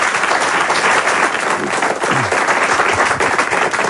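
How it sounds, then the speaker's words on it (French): Audience applause at a France Gall public talk session in 2015, steady dense clapping from a crowd filling the whole stretch without pause. "Ah ouais, ça s'applaudit, c'est vrai."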